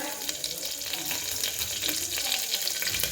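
Mustard seeds, cumin, garlic and curry leaves fry in hot oil for radish sambar, a soft, fairly close sizzle with light crackles and pops, with a voice speaking over it.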